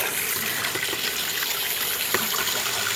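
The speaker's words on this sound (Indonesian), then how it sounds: "Nah, kita rendam sampai ke permukaan pot." An aglaonema plant pot is soaked in water, with a close, constant gushing and bubbling of liquid throughout.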